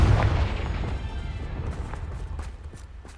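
A Confringo fire spell in Hogwarts Legacy bursts with a loud, deep blast at the start, then a rumbling decay with faint scattered crackles as it fades.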